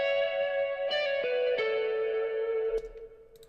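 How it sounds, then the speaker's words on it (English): A bare electric lead guitar line with vintage-style reverb plays a few sustained notes with pitch bends, each ringing into a soft tail before fading out at the end, clean and alone. "this lead part I actually left pretty bare. It's just got some vintage verb"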